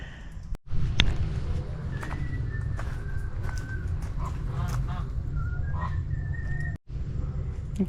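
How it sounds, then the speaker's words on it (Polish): Several short honking calls from geese in the Dominican Republic ring out over a steady low rumble of outdoor background noise, scattered across the clip at moderate distance. "idę jeszcze raz do tych zwariowanych gęsi"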